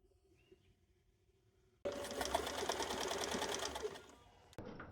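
A domestic sewing machine runs in one steady, fairly loud burst of rapid stitching as big pockets are sewn onto a dress inside a van, stopping abruptly after a quiet start.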